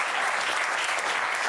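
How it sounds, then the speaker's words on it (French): Steady studio audience applause on a French television talk show set, a dense even wash of clapping throughout a short stretch with no speech. "Jeff, faut pas applaudir."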